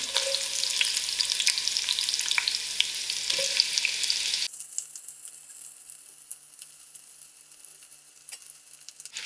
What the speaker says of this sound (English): To my oil, I'm going to start adding in my onions.